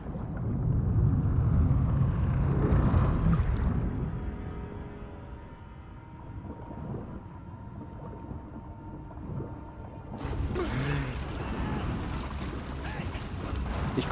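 In Uncharted 4, a boat engine that is failing churns out a steady low rumble mixed with wind and water noise, and voices talk over it throughout.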